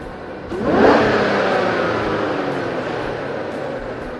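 A truck engine fitted with an Edelbrock E-Force supercharger fires up and revs sharply, then settles into a loud, steady idle with a whining hum, close by and with no talking.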